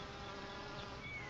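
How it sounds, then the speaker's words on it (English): Honey bees buzz in a hive, a faint, continuous droning hum with no clear breaks. "Bees are called social insects because they live and work together as a community."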